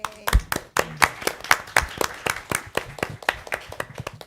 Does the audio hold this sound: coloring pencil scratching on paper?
no